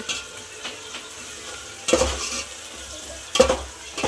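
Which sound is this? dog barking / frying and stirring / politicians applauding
frying and stirring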